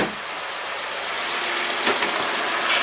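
A Honda Accord engine with a VCM misfire runs close by during a cylinder drop test, a steady broadband hum with a slight rise toward the end.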